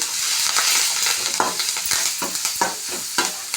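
A turmeric tempering for chowdakaya fries in a pan, with a steady loud sizzle and repeated stirring scrapes and clacks, close up and with no talking.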